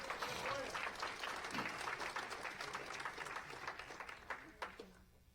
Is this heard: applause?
yes